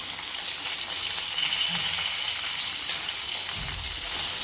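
Drumsticks with turmeric stir-fried in oil in a pan give a steady, close frying hiss with a few soft scraping knocks and no talk.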